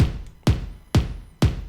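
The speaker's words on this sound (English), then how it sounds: "It's just a kick." Four punchy kick drum hits at a steady, even pace, each a deep thump with a fast decay, loud and dry.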